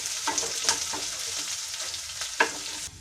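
Onions sautéing in a pan for parippu curry, a continuous oily sizzle with a few soft stirring scrapes, close up and without talk.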